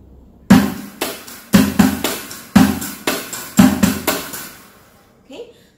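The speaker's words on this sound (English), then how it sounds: "execute a basic drum groove, a rock drum groove, on the virtual drums" A simple rock drum beat plays on virtual drums: steady kick and snare hits with crisp cymbal wash, several bars at a moderate tempo, ending abruptly.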